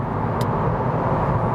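A Subaru WRX STi accelerating hard, its engine a steady loud rumbling drone heard from inside the car, continuous throughout.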